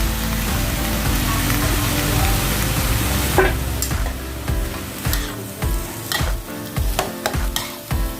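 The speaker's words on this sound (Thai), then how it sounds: "ถึงเวลานะคะที่เราจะใส่ผักทุกอย่างลงไปค่ะ" Vegetables are stir-fried with pork in a pan, giving a loud, continuous sizzle with bursts of scraping and tossing as the ingredients are stirred, close up with no talking.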